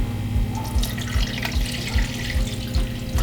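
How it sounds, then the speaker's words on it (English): Water is poured into an IrriUp plant watering system, a close, continuous splashing trickle with regular gurgling pulses about every half second, and no voices over it. "put the water in the system"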